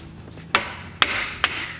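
Three sharp metallic hammer blows strike a pickle fork wedged into a ball joint while the old suspension comes off a 1993 Nissan NX2000, each ringing close and loud with short pauses between.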